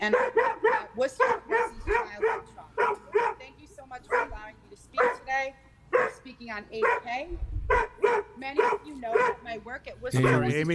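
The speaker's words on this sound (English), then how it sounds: "Sorry about my dog." A pet dog barks repeatedly in a home during an online city council meeting, sharp yips and bow-wows breaking in under and between a woman's steady speech.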